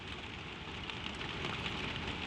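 Steady rain pours onto a stable roof, a dense, even hiss of drops drumming close by without pause and with no voices.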